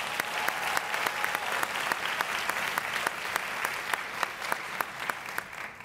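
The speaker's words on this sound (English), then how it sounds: "let's give another round of applause to the 2018 Galileo graduates of distinction" Audience applause for graduates at the 2018 Galileo graduates of distinction ceremony for Danville Public Schools, a steady dense clapping that stays even and sustained throughout, with sharp individual claps popping out above the wash.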